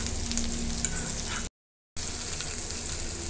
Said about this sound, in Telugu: హైలో పెట్టి ఒక 2-3 నిమిషాలు ఫ్రై చేసుకుందామండి బెండకాయలు.